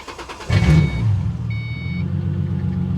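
A car with an aftermarket exhaust and 121,000 miles starts up with a loud low rumble, then settles into a steady, throaty idle close by, with a brief faint electronic chime partway through.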